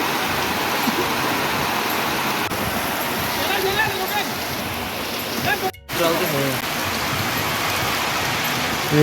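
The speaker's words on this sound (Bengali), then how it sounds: "তাতে তামাম করে বৃষ্টি এসছে" Heavy rain pours down steadily in a dense, continuous hiss, with a brief dropout midway before the downpour resumes.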